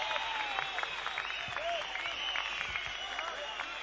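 An audience on a TV talent show stage applauds and cheers, a steady wash of clapping and crowd noise held under a voice talking over it, moderately faint and continuous.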